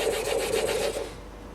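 Bench plane iron rubbed back and forth on a waterstone, a close, gritty rasping in quick repeated strokes that stops after about a second.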